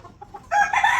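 A rooster crows once, loud and close, its call rising suddenly after a few faint clucks and carrying on to the end, with no talk over it.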